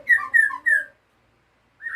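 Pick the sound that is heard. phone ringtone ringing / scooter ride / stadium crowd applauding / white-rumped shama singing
white-rumped shama singing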